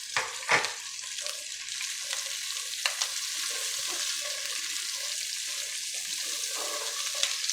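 Peas, carrots and bell pepper fry in a pan over low heat, giving a steady sizzle with a few sharp clinks and scrapes of a utensil, close and fairly quiet, with no talking.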